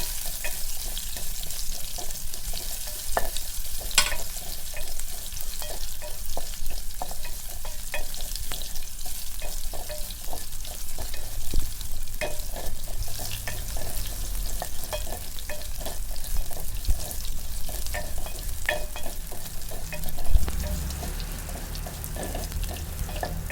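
Thinly sliced shallots (small red onions) fry in a pan, producing a continuous crackling sizzle with frequent small pops and occasional scraping stirs, close and steady throughout.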